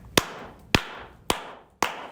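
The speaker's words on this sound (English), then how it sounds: "We're going to slow clap Junior out, and we're going to clap for everybody else" Four slow, deliberate hand claps, evenly spaced about half a second apart, each sharp and close with a short decay, with no talking in between.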